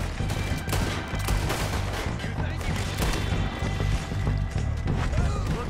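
Hip-fired gunshots from a Red Dead Redemption 2 game scene set in snow, a steady run of sharp shots over a busy, dense soundscape with a voice talking faintly beneath.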